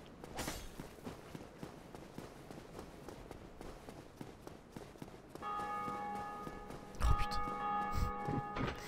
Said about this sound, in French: J'ai jamais entendu autant de cloches de ma vie dans Dark Souls 1.